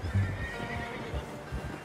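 A horse in Red Dead Redemption 2 gives a short whinny over steady in-game ambience, with the snort and neigh near and moderately loud and a few soft hoof thuds around it.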